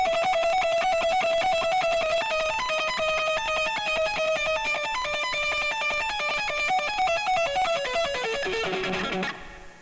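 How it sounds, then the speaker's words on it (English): An electric guitar runs a fast, repeating melodic pattern through a delay effect, the echoed notes stacking into a dense shimmering cascade for nearly ten seconds before a final strummed swell. "is the effect I do with the delay"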